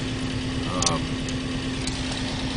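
An International Scout engine idles in park at operating temperature with an even, low rumbling hum, close and steady, while a voice talks over it.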